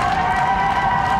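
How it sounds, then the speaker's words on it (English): A capacity wrestling arena crowd hoots and hollers in a short, loud, continuous burst of cheering, mixed with clapping. "Listen to this crowd, this capacity crowd trying to get behind the Native American, hooping and hollering, doing their Indian calls"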